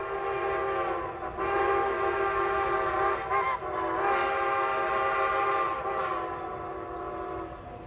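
A model express train on a railroad layout passes from a distance. Its horn or whistle sounds as a steady, harmonic drone for the whole stretch under continuous rail rumble, with no talk.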